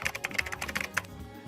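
Rapid clicky keystrokes on a computer keyboard, a quick uneven run of close, crisp taps for about a second before trailing off, with no voices.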